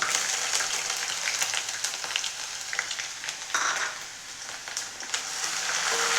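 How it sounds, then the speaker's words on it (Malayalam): Ginger fries in hot coconut oil for an onion pickle, a dense, continuous sizzle with scattered crackles and a brief stirring dip midway, close and loud with no talking. "സമയത്ത് നമ്മൾക്ക് ഇഞ്ചി ഇട്ട് കൊടുക്കാം"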